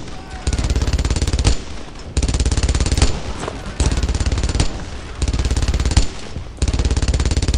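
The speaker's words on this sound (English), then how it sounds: "I want heavy fire on that MG." Sustained machine gun fire in the World War II shooter Brothers in Arms: Earned in Blood, loud and close, in long bursts of rapid rounds broken by short pauses.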